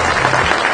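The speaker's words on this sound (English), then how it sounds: "Let's give Louis a big round of applause for" A dense, loud burst of audience applause fills an International Swimming Hall of Fame induction ceremony honoring Lou Ferrigno, steady and continuous throughout the short stretch.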